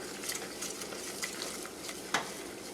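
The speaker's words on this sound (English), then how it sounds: "we're just going to get this mixed together good" Chicken pot pie filling with flour being stirred in a pan, a soft sizzle with scraping stir strokes and one sharper clack of the utensil near the end, close and fairly quiet.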